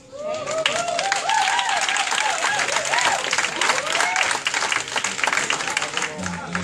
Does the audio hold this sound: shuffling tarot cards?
no